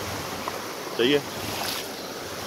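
A shallow creek flows in a steady, close rushing wash, and a voice breaks in briefly over the water.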